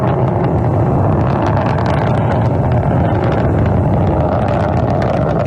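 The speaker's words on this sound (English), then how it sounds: "Engines reported to be operating normally from the blockhouse at Baikonur." Soyuz 2.1a rocket engines roar during launch from Baikonur, a steady, dense, broadband rumble with wind-like buffeting, loud and continuous without pause.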